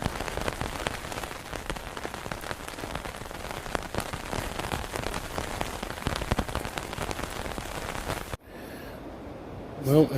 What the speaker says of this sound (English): the wind and the rain have picked up again